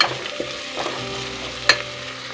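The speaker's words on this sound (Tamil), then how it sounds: "இந்த மசாலையோட பச்சை ஸ்மெல் போகிற அளவுக்கு நல்லா வதக்கிக்கலாம்." Onion-tomato masala with coriander powder and mutton masala powder sautés in a pan for beef curry, giving a steady close sizzle with continuous stirring scrapes and one sharp utensil clink near the end.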